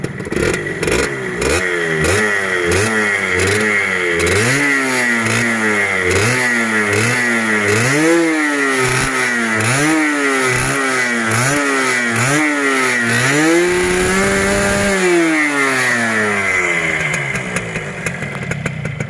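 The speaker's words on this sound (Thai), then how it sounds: "ฟังเสียงนะครับ เบิ้ลให้ฟังนะครับ" Suzuki Stinger engine revved repeatedly in short blips, each rising and falling in pitch in a regular rhythm, loud and close, then settling into a steady idle with no talk.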